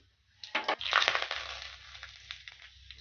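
Panch phoron, the Bengali five-spice seed mix, hits hot oil in a kadai just after potatoes and drumsticks were fried. A sudden burst of crackling and popping erupts, then settles into a thinner, steady spatter with no voices.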